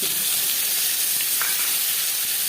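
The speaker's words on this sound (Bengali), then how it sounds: "পেঁয়াজ হালকা করে ভেজে নেবো" Onions sizzle and fry in hot oil with bay leaf and five-spice tempering, making a steady, dense crackling hiss that stays loud and even throughout, with no voices.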